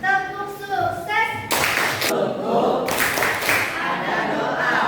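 A classroom of pupils performs the rhythmic Indonesian success clap (tepuk sukses), with bursts of loud unison clapping following a brief sung or chanted lead-in, and voices continuing over the claps.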